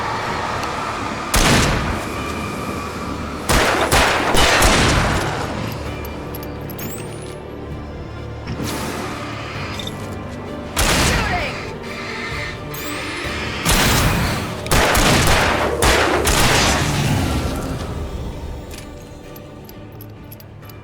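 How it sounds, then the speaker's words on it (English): Gunfire in the video game Alan Wake Remastered: several loud, booming shots spaced irregularly over a steady ambient rumble, each with a ringing tail. "Shooting!"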